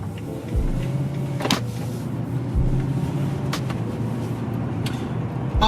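A BMW repaired after a crash sets off on a test drive, with a low steady engine and road rumble inside the cabin and a few sharp clicks and thumps.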